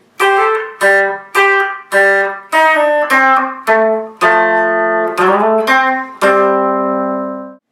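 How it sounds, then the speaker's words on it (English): An electric guitar slowly picks out the transition riff from a song, about ten clean ringing notes and chords played one at a time, the last chord left to sustain and fade. "Here's that transition riff played slowly."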